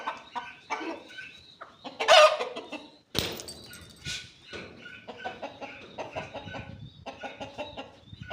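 Hens clucking and cackling in repeated bursts close by, with a louder squawk partway through; no talking.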